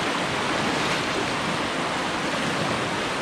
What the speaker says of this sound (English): And the current's pretty strong too.